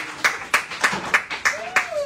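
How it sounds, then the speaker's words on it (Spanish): A few people clap slowly in a regular beat at a live music show at a seafood restaurant, sharp close claps about every quarter second, with a faint tone sliding underneath. "quiero que me les den un fuerte aplauso"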